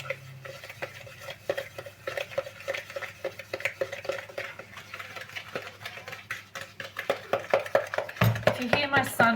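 Margarine and sugar are mixed together in a bowl, giving repeated scraping and tapping clicks in an uneven stirring rhythm, fairly close and quiet, growing busier toward the end.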